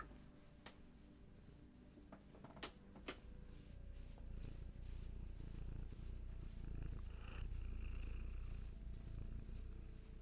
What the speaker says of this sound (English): Oh, them purrs.